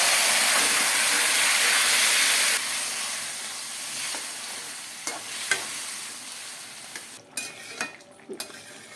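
Vegetables frying in a spiced paste of cumin and ginger, a loud bright sizzle at first that eases off, followed by scattered clatter and scraping of stirring, close by, no speech.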